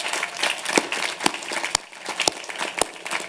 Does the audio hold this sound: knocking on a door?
no